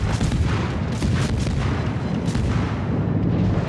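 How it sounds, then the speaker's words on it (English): Anti-aircraft guns in a naval battle video game keep up a dense, loud barrage of booming, overlapping shots that fill the whole stretch without a break. "Anti-aircraft gun crews are on full alert."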